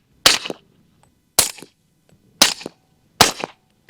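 HK USP pistol fired with a suppressor, four close, sharp cracks at a steady interval of about one second, each followed by a short echo, with no talking.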